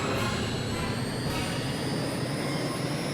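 A Harrier jet in the PS1 game Eagle One: Harrier Attack roars in jet mode, a steady, loud, broadband engine rush with a high whine running through it and no talk.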